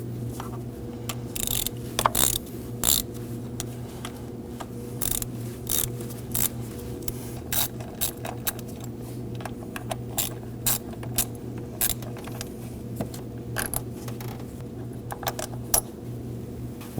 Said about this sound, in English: we can go ahead and remove the bolts holding the pump in